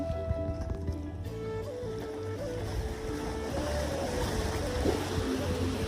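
Steady rushing of open water and waves around a moving boat out in the middle of the sea off Odisha, India, with a low engine drone and wind noise continuing throughout.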